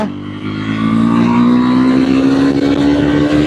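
A Triumph Scrambler 400X motorcycle engine, rated at 39.5 PS, runs loud and steady while riding, its pitch climbing gradually as it pulls through a gear, heard close with no talking.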